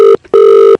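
Telephone ringback as a call connects: two loud electronic ring tones in quick succession, a short burst then a longer one, clear and alone.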